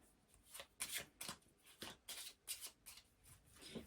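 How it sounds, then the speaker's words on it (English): A deck of fate cards from the board game This War of Mine is riffled and shuffled in a series of quick, crisp bursts, close by and alone, with no talking. "take the fate cards from the top there, Anna, give them a shuffle"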